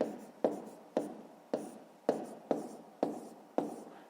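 Math solution written out by hand, a steady series of short scratching pen strokes repeating roughly every half second, close and fairly quiet with no talking.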